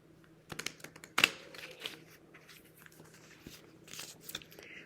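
Soft papery riffling and shuffling of cards, with scattered light clicks and one sharper flutter near the start, close and fairly quiet.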